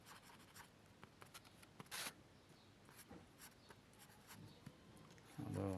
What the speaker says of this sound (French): j'écris avec une seule main